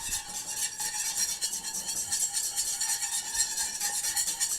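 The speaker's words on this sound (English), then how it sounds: "now we're going to start whisking" A stabilized beurre blanc sauce thickened with xanthan gum being whisked in a pan, a steady, continuous scraping and swishing of the whisk at close range with no talking.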